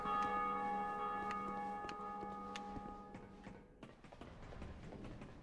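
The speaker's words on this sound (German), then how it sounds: "Wir haben eine Glocke geläutet." A bell rings in Dark Souls 2, its resonant metallic tone already sounding loudly and slowly fading over several seconds, with faint ticking clicks and scattered clatter emerging as the ring dies away.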